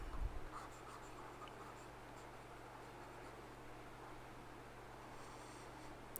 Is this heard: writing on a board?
yes